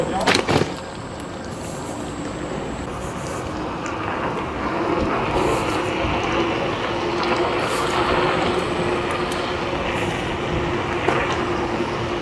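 A Sam'trot electric scooter runs at its top speed of 26 km/h, giving a steady broadband whir with wind and rolling noise that holds evenly throughout.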